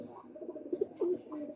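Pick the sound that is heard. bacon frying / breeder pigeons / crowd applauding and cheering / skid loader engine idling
breeder pigeons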